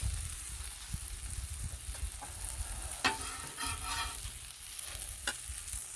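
Breakfast sizzles in ghee on a Blackstone griddle, a constant soft frying hiss with a few spatula scrapes and taps, and no voices.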